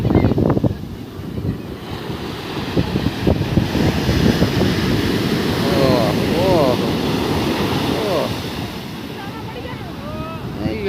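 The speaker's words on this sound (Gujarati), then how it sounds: "મોજું આવે છે" Sea waves surge and wash at Somnath with heavy wind buffeting the microphone, and a voice is heard faintly partway through.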